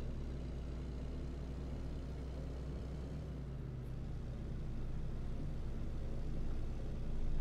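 A long truck with a sleeper cab and bigger fuel tank, pulling a long trailer, droning steadily with a low engine rumble and road noise that swells slightly toward the end.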